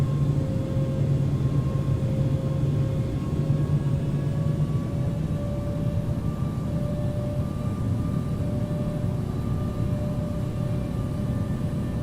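A heavy airliner, EVA 006 Heavy, takes off in the Infinite Flight game, a loud continuous engine roar with slowly rising whining tones, steady and unbroken throughout.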